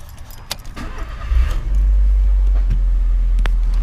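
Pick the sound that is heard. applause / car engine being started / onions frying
car engine being started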